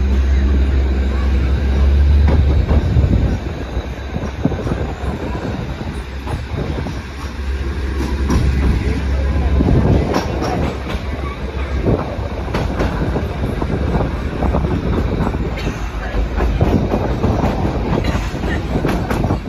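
Narrow-gauge children's railway train rattling and clattering along through the Buda hills, a steady close rumble with rhythmic clickety-clack from the cars throughout, loud and continuous with no talk over it.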